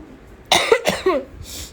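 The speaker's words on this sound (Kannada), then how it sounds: "ಸ್ವಲ್ಪ ಕೆಮ್ಮು ಬಂದುಬಿಟ್ಟಿದೆ" A person in a kitchen coughs about three times in quick succession, close and clear, against a quiet background.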